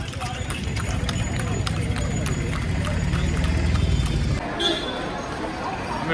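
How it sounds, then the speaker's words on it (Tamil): Horse-drawn carts pass along a street in Palani, hooves clip-clopping in a quick, steady rhythm over low rumbling wheels and traffic noise, then the clatter fades near the end. "பழனியில் முக்கால்வாசி பார்த்தீங்கன்னா குதிரை வண்டி தான்."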